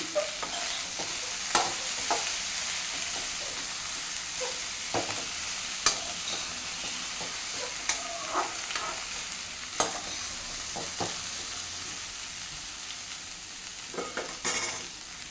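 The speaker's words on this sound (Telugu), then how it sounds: "మధ్య మధ్యలో కలుపుతూనే ఉండాలండి" Okra (bendakaya) frying in a pan with little oil, stirred at intervals: steady sizzle with scattered scrapes and taps of the spatula across the pan, close and without speech.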